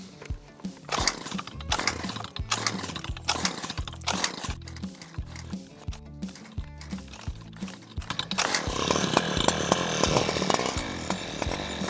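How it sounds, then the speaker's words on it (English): A chainsaw cuts through overgrowth around a pond, revving in short repeated bursts and then holding a continuous, louder high-pitched whine toward the end, close and prominent. "time to get some sawing equipment"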